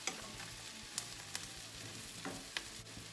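Onions frying in butter in a pan give a steady, fairly quiet sizzle, broken by a few sharp clicks and scrapes of a spoon stirring them, with no talking.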